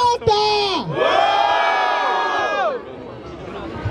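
A loud crowd roars and cheers at a rap battle in Barueri, São Paulo, a sustained mass of whooping voices that swells and then eases off toward the end.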